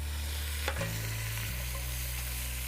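A deer backstrap sears in a pot over an open fire, sizzling steadily and close, with one brief clatter as the meat is flipped over.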